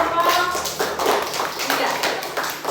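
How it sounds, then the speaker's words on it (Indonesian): A classroom of students claps for a presenting group, a short burst of scattered, uneven hand claps with a voice talking over part of it. "tepuk tangan untuk kelompok"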